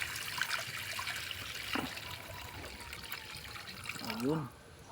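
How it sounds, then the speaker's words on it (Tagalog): Water poured into a pan for sautéed pechay with sardines, a steady trickling splash under kitchen background noise, with a voice speaking briefly near the end. "Siyempre, lagyan na natin tubig."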